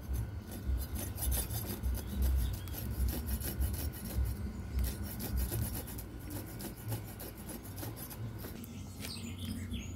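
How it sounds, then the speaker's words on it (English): Skin being scraped off a roasted iguana, a steady rough rasping and rubbing that runs continuously at close range with no pauses, and a few faint chirps at the end; no voices. "when you roast the corner you will have to scrape off the skin like Caleb is doing right now"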